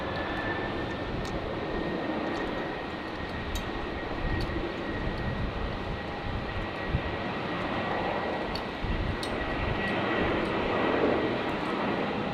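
An airplane takes off from runway 19 left at Brisbane Airport, a steady broadband engine roar sustained at moderate distance for over twelve seconds, with a faint high tone running through it.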